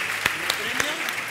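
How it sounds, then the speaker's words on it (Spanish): An audience claps briefly at a live cooking show event in Córdoba, a short burst of applause mixed with voices talking over it. "Un aplauso."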